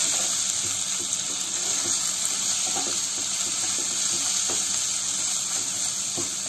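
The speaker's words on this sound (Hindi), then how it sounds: "अब इन सारी चीज़ों को हमें अच्छी तरह से मिक्स करना है" Spices for a black-eyed bean curry fry in a pan over a low to medium flame, making a loud, steady hiss with faint, scattered stirring scrapes and no talking.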